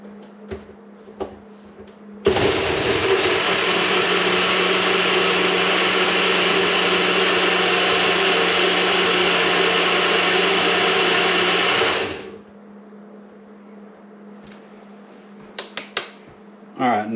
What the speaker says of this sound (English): And now we're going to shake the tar out of this right here.